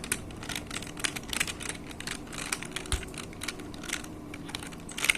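Rapid typing on a QWERTY computer keyboard, with a dense, uneven patter of close, crisp key clicks and no talking.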